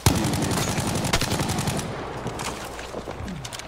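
Rapid automatic gunfire in a multiplayer shooter, loud and continuous bursts filling the first half before thinning into scattered shots, with no talk over it.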